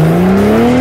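A car drifts at a car show arena, a brief, loud, rising engine whine with a strained squealing tone, heard on its own.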